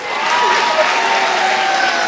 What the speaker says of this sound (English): Friends want to hear louder claps.